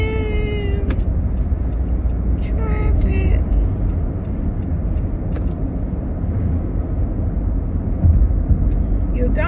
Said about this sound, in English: Look at all the traffic.